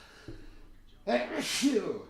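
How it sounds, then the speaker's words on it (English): A single close, sudden sneeze with a sharp intake of breath before it, loud against a quiet background. "Okay, a sneeze out of nowhere."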